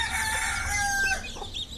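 Hens cluck and a rooster gives a short crow on a farm raising chicks alongside the hens, brief and fairly close.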